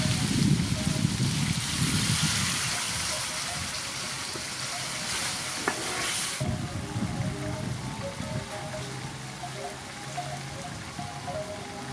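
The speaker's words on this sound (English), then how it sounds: "Add intestine boiling water." Boiling water is poured over pig intestine in a cooking pot for a stir fry with pickled green mustard, giving a loud rushing, bubbling gush that later settles into steady simmering and sizzling, close to the microphone.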